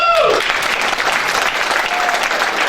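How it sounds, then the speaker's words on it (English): Applause breaks out for the 14th congressional district candidates at a February 2020 candidate forum. It is steady, dense clapping from a full room that lasts the whole moment, with a brief voice at the start. "A big round of applause for our 14th congressional candidates."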